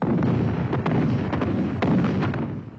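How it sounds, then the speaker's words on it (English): Artillery barrage in a war documentary opening an attack, a dense run of heavy booming blasts and rumbling impacts that roll continuously and loudly, with no voices. "An artillery barrage opens the attack."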